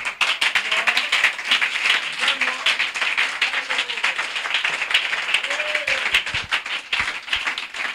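A church congregation claps fast and steadily in rhythm while a voice speaks over the clapping, which stays lively and continuous throughout.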